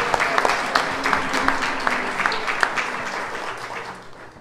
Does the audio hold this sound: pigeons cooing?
no